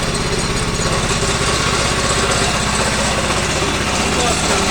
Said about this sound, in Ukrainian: Генератор працює, лампочки працюють.